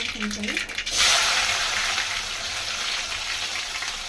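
Onion and green chilli frying in hot tempering oil with mustard and cumin seeds, a loud crackling sizzle that bursts in after a moment of a voice and then hisses steadily close up.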